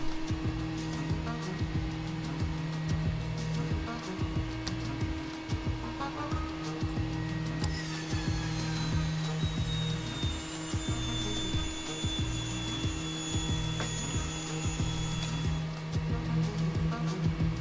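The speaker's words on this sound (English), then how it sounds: "Alright, my fuel pumps are noisier than anything else. My booster pumps." Electric fuel booster pumps whine steadily aboard a vintage aircraft, a continuous hum with tonal layers and a rising high whine joining partway through, heard close in a cockpit.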